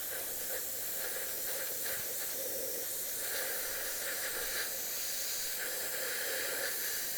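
An airbrush sprays green paint in a steady, close, continuous hiss that holds its level throughout, with slight fluctuations in air pressure and no voices.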